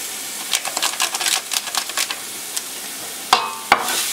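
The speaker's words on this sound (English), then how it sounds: "Mix lang natin." A utensil stirs achuete into hot oil with garlic and onion in a pan, making a run of quick scraping clicks and light sizzle, ending with two sharper knocks, no talking.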